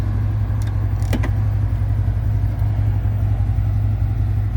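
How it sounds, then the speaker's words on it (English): A 2022 CFMoto U-Force 1000 XL six-passenger side-by-side idles steadily up close, its low engine drone constant throughout, with a couple of faint metallic clicks and no talking. "you always want to let it sit there and idle for a little bit"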